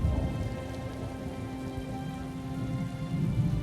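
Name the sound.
rain storm in The Elder Scrolls Online video game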